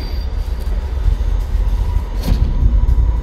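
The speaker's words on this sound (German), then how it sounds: "So eine U-Bahn ist richtig schwer." Heavy Berlin U-Bahn underground train rumbling along the track in the video game State of Mind, a deep continuous low roar with a brief brighter screech of wheels near the middle, steady and loud with no talk.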